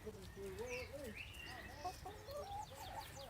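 Hens cluck and murmur close by inside an allotment poultry enclosure, several birds making short rising and falling calls in an irregular run, fairly faint overall with no talking.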